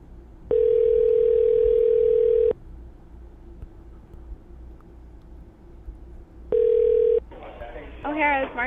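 A telephone dial tone in the game GTA V sounds as a steady tone for about two seconds, then after a pause a shorter burst, with a person beginning to talk just after.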